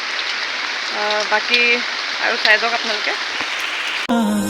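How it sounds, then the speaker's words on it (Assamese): Heavy rain hisses steadily in the background during a wedding gathering, while people talk over it at close range. "এতিয়া বৰষুণ দিছে খুব, বৰষুণ মানে তামাম বৰষুণ"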